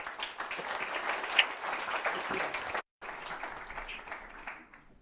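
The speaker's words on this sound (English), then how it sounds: "a big applause for you now" A conference audience at Framtidsdagen 2023 applauds a speaker with steady, moderately distant clapping that breaks off abruptly for an instant, resumes, and gradually thins out toward the end.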